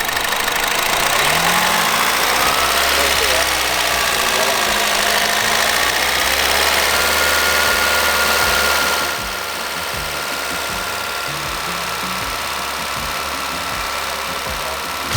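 A car engine runs steadily while the throttle is held during an engine fluid system flush, giving a close, continuous hum with a rough mechanical ticking that drops slightly in level partway through, with no talk.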